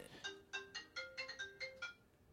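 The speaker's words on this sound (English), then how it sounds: "So we'll let Mike run over to the phone real quick and see what happens" Phone ringing in repeated electronic bursts, about eight short rhythmic trills over a couple of seconds, clear and alone with no talking.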